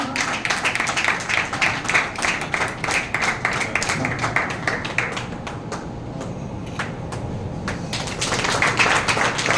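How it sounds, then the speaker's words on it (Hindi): Applause for an honoree at a Lions Club ceremony in a hotel hall, a dense sustained patter of many hands clapping across the whole stretch, easing slightly in the middle and swelling again toward the end. "एक बार जोर का ताली चाची के लिए"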